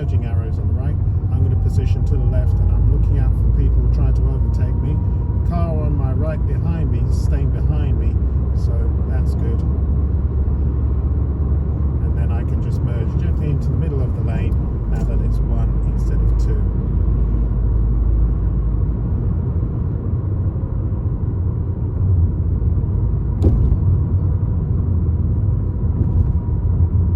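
Car engine rumble and road noise from inside a car on a driving-test route around Gedling, Colwick area, steady and continuous under a voice giving gear and mirror instructions throughout.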